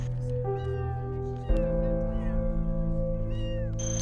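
A small kitten, found on the roadside and apparently blind, meows while riding on a scooter at night, its cries sitting over a steady engine hum and road noise.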